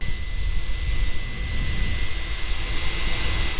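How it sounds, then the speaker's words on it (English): Steady, loud whirring of 3D printer cooling fans, a constant airy hum with a faint high tone running throughout, no voices. "So the fans, you can hear the fans in this little video."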